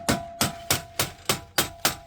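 Rubber hammer tapping an aluminum stair railing during installation: seven evenly spaced, sharp knocks with a faint ringing tone, close and clear with no talking.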